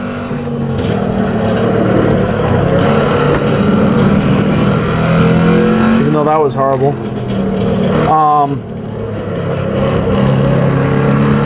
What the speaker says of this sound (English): And I love that deep throaty exhaust.